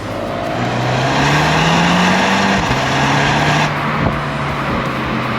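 A new MINI JCW Convertible drives along a road climbing above the clouds, its engine a steady close drone that rises in pitch, drops briefly at a gear change, then settles into an even hum with road noise and no talking.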